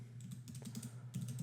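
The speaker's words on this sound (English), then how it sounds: "I can type, and then, over here I can type back" Rapid keystrokes clatter on a computer keyboard as someone types into a chat session on a computer, a dense run of light clicks close by, riding over a steady low hum with no talk.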